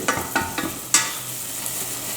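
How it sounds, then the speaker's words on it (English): Chopped onions frying in a pot as the base for an artichoke risotto, with a steady close sizzle broken by three or four quick scraping spoon strokes early on. "So we stir from time to time, make sure it's cooking properly"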